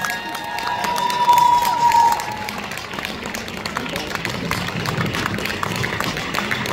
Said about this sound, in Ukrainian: Будь ласка, прийміть щирими оплесками. Олександр Покраса для вас.